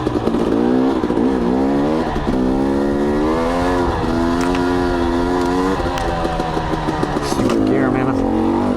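KTM 250 XC dirt bike engine on a trail, close and loud, its pitch rising and dropping repeatedly as the rider shifts down into first and works through the gears, with someone talking over it.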